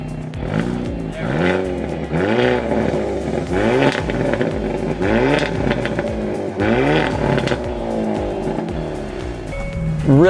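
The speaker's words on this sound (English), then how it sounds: "Now going ahead and firing on the vehicle" A 2022 Hyundai Elantra N engine revs repeatedly in sharp, rising pulls, about seven close, loud bursts in a row with brief dips between them.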